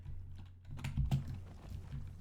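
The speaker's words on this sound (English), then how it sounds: "if you're going to start pressing the keyboard, I'm going to go feed you" Computer keyboard keys are pressed in a short, quiet, irregular burst of clicks, a few taps close together with faint room noise around them.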